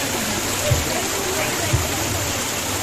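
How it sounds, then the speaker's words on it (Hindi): The Panchpula waterfall in the Himachal hills, water coming down from the slopes above, gives a steady broadband roar and rush that fills the whole stretch evenly, close and loud, with a couple of faint low knocks. "और यहाँ है वाटरफॉल।"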